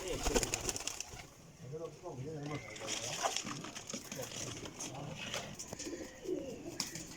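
Champion flying pigeons coo faintly in soft, rolling bursts under nearby speech and general background noise.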